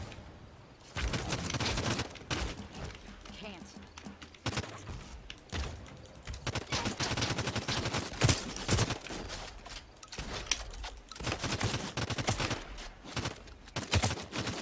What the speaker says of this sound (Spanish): Escucho disparos de aquel lado.